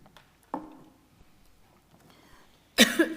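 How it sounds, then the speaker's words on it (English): A sharp cough bursts out near the end, preceded by a smaller throat sound earlier, in an otherwise quiet room during a planning committee meeting. "Sorry, I started coughing."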